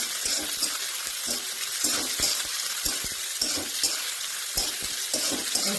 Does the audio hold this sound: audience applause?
no